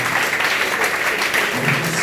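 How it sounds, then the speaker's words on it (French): Congregation in a church service applauding for the Lord, a dense steady wash of clapping filling the room, loud and continuous with no speech over it. "Applaudis bon Dieu pour le Seigneur."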